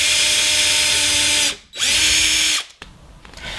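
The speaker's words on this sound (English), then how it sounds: "just drill into the first one" A power drill bores a hole in wood for an IKEA BEHJALPLIG sliding hinge on an integrated Bosch, Neff or Siemens appliance door, with a loud close whine, a short pause, a second burst, then stopping.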